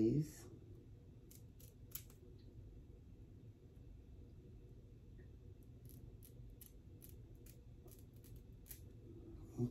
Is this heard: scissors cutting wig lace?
yes